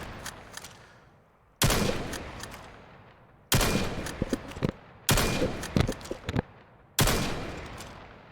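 Five sharp bursts of gunfire from a VR shooting game, each a loud crack followed by a decaying tail, spaced a second or two apart with quiet gaps between.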